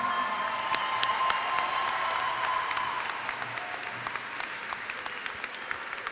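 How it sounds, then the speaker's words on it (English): At a 2017 high school graduation, a large audience gives a round of applause for the principal, a broad sustained patter of clapping from a distant crowd that thins toward the end. "let's give a round of applause for your principal, Mrs. Thompson."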